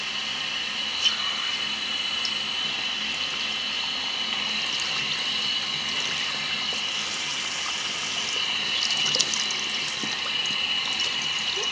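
Water runs steadily from a tap while a toy is bathed, a constant moderate gush with no voices.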